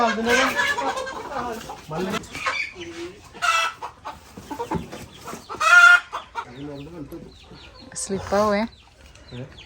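Hens clucking and squawking close by in busy, irregular bursts, with people talking over and between the calls.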